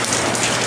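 Heavy typhoon rain pours in a dense, loud, close hiss of drops striking a surface.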